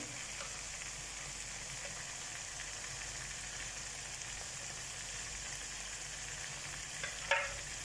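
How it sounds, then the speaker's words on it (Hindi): Minced mutton fries in a karahi with garam masala, a steady close sizzle and crackle running throughout, with a single sharp clink of a utensil near the end and no voices. "तो जी कीमा को भूनते हुए 5 मिनट हो चुके हैं।"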